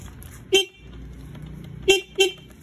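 Car horn during a vehicle inspection check, three short honks: one single beep, a pause, then two quick beeps close together, loud and near over a low idle background.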